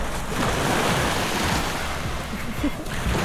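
Sea waves wash onto a beach in Ilocos Sur, a steady broadband surf rush with wind buffeting the microphone, close and continuous with no talk.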